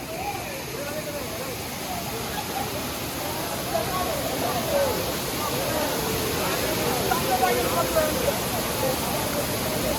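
Steady broadband rush of the Varsha waterfall flowing, a continuous even roar close by with faint voices and chatter drifting over it.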